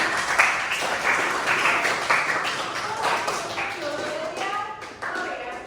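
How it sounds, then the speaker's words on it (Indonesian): Classroom applause from students, a steady patter of many hands clapping at moderate loudness with voices mixed in. "boleh tepuk tangan untuk Hafi."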